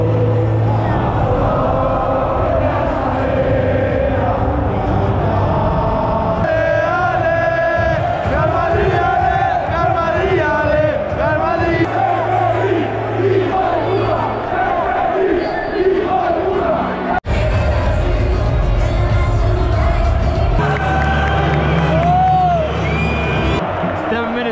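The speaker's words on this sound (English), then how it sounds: "Liverpool fans are starting to wake up. They're starting to sing" Liverpool supporters in a packed stadium crowd at a Champions League final against Real Madrid, singing and chanting in a loud, continuous roar with whoops and shouts rising through it.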